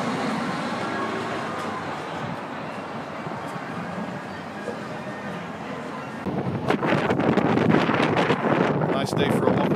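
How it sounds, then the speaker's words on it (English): Steady wind buffeting a microphone outdoors in Liverpool, a rumbling roar that grows louder and gustier partway through, with faint crackling bursts. "Enjoy the wind for a second and I'll cup it."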